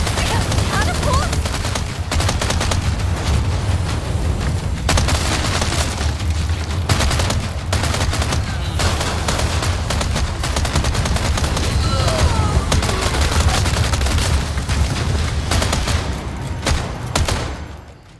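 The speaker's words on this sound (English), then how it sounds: "Catapult!" Siege catapult assault in Resident Evil 4 Remake's castle segment: loud, continuous barrage of booming impacts and crackling explosions filling the whole stretch, with game noise dense throughout.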